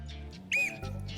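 A small sterling silver baby toy whistle gives one short, bright, shrill toot over low background hum and room noise, with no talking during the blast.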